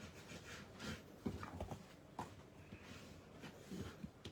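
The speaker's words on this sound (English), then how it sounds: "I'm just gonna take my bone folder and just burnish all these edges" A bone folder burnishes the paper edges of a handmade album, a soft, close dry rubbing with a few brief scraping strokes, quiet and without talk.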